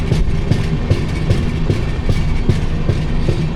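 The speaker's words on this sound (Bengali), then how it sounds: "এখন আমাদের ট্রেন ঢুকছে আম্বুর রেলওয়ে স্টেশন" A train entering Ambur railway station in Tamil Nadu rumbles loudly and steadily, wheels clacking in a regular rhythm over the rails with a low engine drone underneath.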